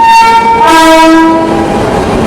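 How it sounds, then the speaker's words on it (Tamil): A WAP-7 electric locomotive hauling the Mayiladuthurai–Coimbatore Jan Shatabdi sounds a loud, close, sustained horn as it leaves the second platform, with a second horn pitch sliding in partway through. "நம்ம வண்டி இப்போ ரெண்டாவது பிளாட்ஃபார்ம்ல இருந்து கிளம்புதுங்க"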